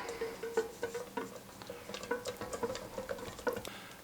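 Two egg yolks being broken up and stirred in a bowl with a utensil for homemade mayonnaise, giving soft, quick, irregular ticking taps and light clinks, close and quiet.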